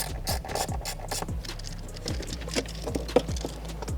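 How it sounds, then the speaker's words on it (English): A ratchet loosens a 10 mm bolt holding a white plastic panel low on a MINI Cooper, giving a close, steady run of quick metallic clicks in uneven bursts with no talking. "There's a 10 mil down here that you just have to loosen on this white plastic."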